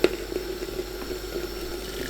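Water runs steadily into a pot of Afghani dam pukht meat stew holding onions, green chilies, peppers and tomatoes, a soft continuous close pour with no talking.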